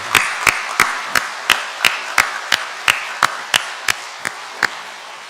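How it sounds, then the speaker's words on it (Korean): A church congregation at an Easter Sunday service claps in unison, giving about fifteen sharp, evenly spaced claps in a steady rhythm that ring out in the hall. "다시 한번 우리 큰 박수로 고마운 마음을 표하겠습니다."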